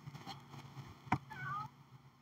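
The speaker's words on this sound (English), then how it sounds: "Yes, meow, I hear you." A house cat lets out a single clear meow near its midpoint, with faint room noise and small handling sounds around it.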